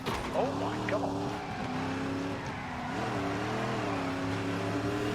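A race car in The Grand Tour Game video game revs and shifts, its engine note rising and falling with squealing tyres, close and loud throughout.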